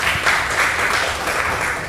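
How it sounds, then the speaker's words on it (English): Audience applause at the conference for the 55th MABA 17 & Under National Junior Basketball Championship 2019, a steady, close wash of clapping lasting the whole stretch. "Round of applause, please"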